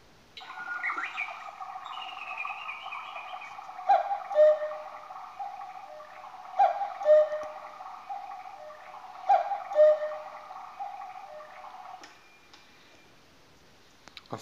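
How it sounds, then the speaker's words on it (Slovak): A Trenkle 355 Q quartz cuckoo clock with a wooden dial, set to its loud mode, sounds a series of clear two-note cuckoo calls in regular pairs over a steady tune, loud and close, then falls quiet. "teraz si zapneme hlasný mód"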